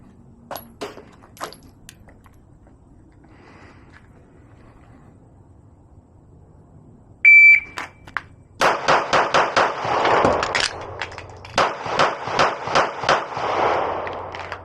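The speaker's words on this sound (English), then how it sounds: "We'll do 5 body shots, reload 5 headshots." Glock pistol firing two rapid strings of shots, sharp and close, separated by a short pause for a reload, with quiet handling sounds before.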